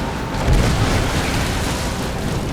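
A deep booming blast of ship cannons firing in the video game Skull and Bones near the start, then a dense roaring rumble that sustains without a break.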